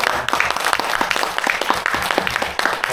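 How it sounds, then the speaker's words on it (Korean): A lecture audience at Seoul National University applauds a speaker, giving a short burst of thick, sustained clapping at a loud, even level. "귀중한 역할 감당하고 계신 정한기 박사님께 다시 한번 큰 응원의 박수 부탁드리겠습니다"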